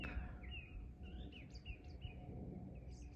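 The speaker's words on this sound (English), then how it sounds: "The birds are waking up" Birds chirp and call at dawn on a still morning, several short, thin, fairly faint calls scattered over a low steady rumble of background noise.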